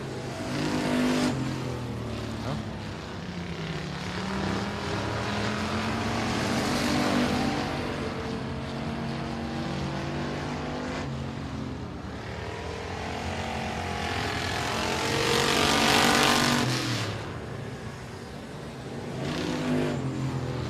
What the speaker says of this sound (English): Lap 1 for Persley. He got a little sidestep down there.